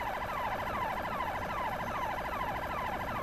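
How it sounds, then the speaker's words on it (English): A police car siren from Halo 3 ODST wails in a fast, repeating electronic sweep, loud and steady for the whole stretch with no talk. "In ODST, there is a siren on some of the police cars."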